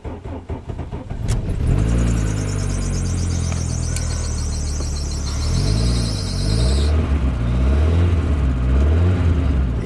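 A car engine turns over and catches on a cold start, then revs up and down repeatedly with a loud, close rasp and a high belt-like squeal early on.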